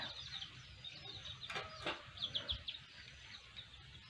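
Chickens cluck softly in the background, a few short calls rising over faint ambient noise.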